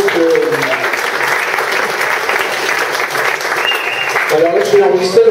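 Loud, dense audience applause fills the whole stretch as a steady roar of many hands clapping, with a voice briefly audible near the start and again toward the end.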